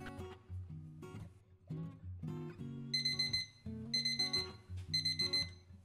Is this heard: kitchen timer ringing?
yes